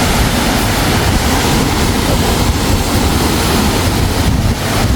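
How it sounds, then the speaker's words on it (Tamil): Roadside waterfall on the Coimbatore to Ooty hill road pours down in a loud, dense, steady rush that fills the whole stretch with no voices over it. "தண்ணி சவுண்டு கேட்குது."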